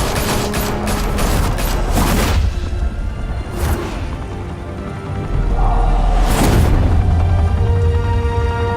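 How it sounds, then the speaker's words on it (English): Bursts of gunfire in the Batman Telltale video game crackle in rapid volleys, loud and dense, with a few heavy booms and brief lulls between barrages, no talk over it. "Open fire!"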